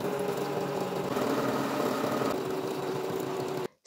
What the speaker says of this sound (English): then straight stitch it down, leaving an opening in the middle so we can bag it out later